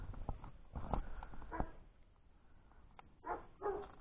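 A large dog barks in a few loud, close bursts with pauses between, heard outdoors near a stone church along a mountain hiking route.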